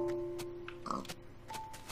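Pigs in Minecraft give a few short grunting oinks at a modest distance over quiet game background, spaced irregularly across the moment.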